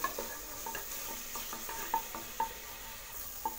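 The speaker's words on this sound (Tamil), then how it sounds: "தக்காளி சேர்த்ததுமே மீடியம் ஃப்ளேமில் வச்சு இதை வதக்கி விடுங்க." Chopped onion and tomato are sautéed in a pan over a medium flame while making dry ginger soup. A spatula scrapes and taps in a steady rhythm over a constant soft sizzle.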